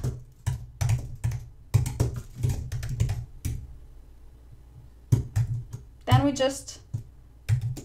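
Typing text on a computer keyboard, bursts of close, crisp key clicks in quick clusters with a pause midway, heard alongside someone speaking.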